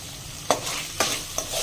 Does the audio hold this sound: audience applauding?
no